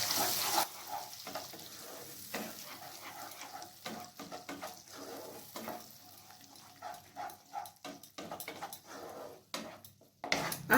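Onion paste frying in a pan for a mushroom curry as it is stirred, with a soft sizzle under repeated scraping clinks and knocks of a utensil against the pan, close and uneven.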